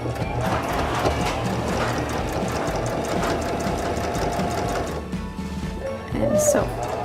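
A sewing machine runs a back-stitch along a drawstring bag seam, its rapid mechanical needle clatter steady and close before easing off near the end, with a person talking faintly alongside.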